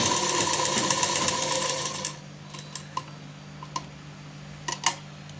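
A sewing machine stitches a blouse lining edge in a fast, steady whirring run for about two seconds and then stops, followed by a few scattered clicks and taps of fabric handling.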